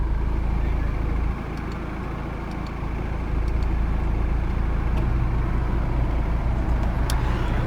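A 2014 Volvo XC60 R-Design with the 2.0 D4 diesel idles steadily just after start-up, a low, constant engine hum throughout with a slight dip in level early on.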